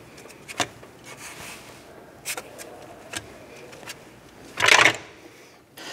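A 1993-1997 Ford Ranger radiator fan is spun and unthreaded, with sparse clicks and metallic scrapes close by and a louder rattling burst near the end.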